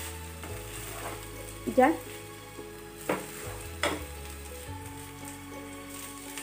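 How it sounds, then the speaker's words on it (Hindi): Rice being stirred and fried in ghee over a low flame, a soft sizzle broken by a few scraping stirs and clinks, with a woman's brief words in the background. "अब मैं इसको अच्छी तरह से घी में ऊपर नीचे मिक्स कर देती हूँ"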